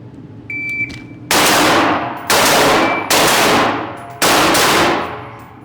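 Four loud, sharp rifle shots ring out at a shooting target on a range, spaced about a second apart, each followed by a long echoing decay, after a brief electronic beep.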